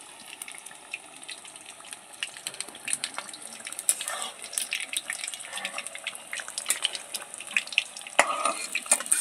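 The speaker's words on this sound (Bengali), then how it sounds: "হালকা লাল করে ভেজে নেব।" Besan (gram flour) balls for laddu fry gently in oil, a soft crackling sizzle with scattered pops and scraping stirs, fairly quiet and close.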